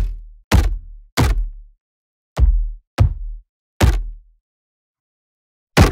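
Deep, resonant tribal folk drum hits, several drums layered together, thud in an uneven pattern, about seven strikes with boomy low tails and short silences between them.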